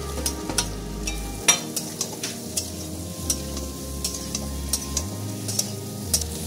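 Potatoes and garam masala fry in an egg curry pan, giving a steady close sizzle while a utensil scrapes and clinks in an uneven stirring rhythm, with no voices.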